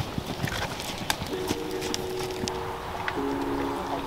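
A horse walks on a riding surface during a show-jumping training session, with steady soft hoof falls in a relaxed rhythm, close by, alongside faint tonal background noise and occasional clicks.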